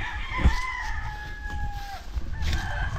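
A rooster from a flock of SBR gamefowl crows clearly in a long, drawn-out call, with a second shorter crow following, against an outdoor farmyard background with low rumbling noise.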